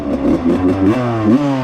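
A rebuilt 1995 Suzuki RM125 two-stroke dirt bike engine revs close up. It is loud and raspy, with several quick throttle blips rising and falling in pitch.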